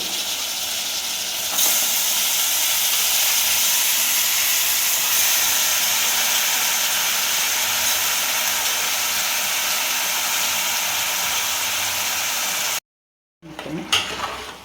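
Chicken dropped into a pan of fried onions for a tamarind chicken curry sizzles loudly and steadily in a continuous hiss, then stops abruptly near the end before a brief clatter.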